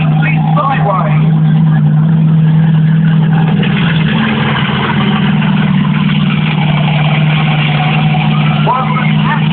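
Bigfoot 17 monster truck running sideways at Yarmouth Stadium, a steady loud engine drone with a strong low hum throughout, under continuous talk and crowd noise.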